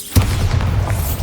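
A Bombarda spell explosion in the video game Hogwarts Legacy goes off as a single loud, deep boom with a sudden onset, then a rumbling low tail that fades over about a second.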